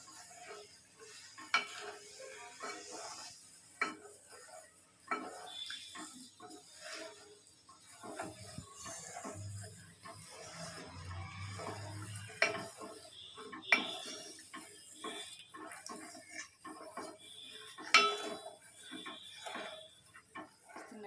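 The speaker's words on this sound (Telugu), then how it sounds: "స్టవ్ని మీడియం ఫ్లేమ్లో పెట్టుకొని బాగా కలుపుతూ ఉండండి" Wheat flour halwa is stirred in a pan on a stove, with faint, scattered scrapes and soft clinks of a spoon against metal over a quiet background and a brief low sizzle.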